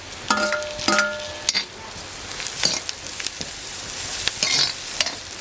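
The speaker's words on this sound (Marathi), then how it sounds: "कांदा फ्राय होतोय कढीपत्ता घालते आणि टॅमॅटो पण घालते" Onion frying in a pan over a wood-fired stove with curry leaves and tomato added, giving a steady sizzle broken by several sharp stirring scrapes and clatters, close and loud with no talking.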